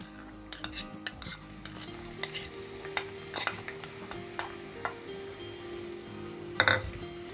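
Garlic, curry leaves and green chillies are stirred in a pan over a low flame, giving sporadic spatula clinks and scrapes over a faint, steady sizzle, with no talking.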